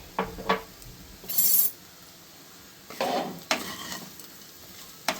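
Yam curry (karunai kizhangu kara kuzhambu) being stirred in a pot, with several short scrapes and clinks of a utensil against metal and a soft sizzle underneath, close and irregular, with quiet gaps between them and no voices.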